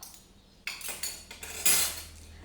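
A spoon clinks against glassware in a quiet room: several bright, separate metallic taps, the last one the loudest, with no talking.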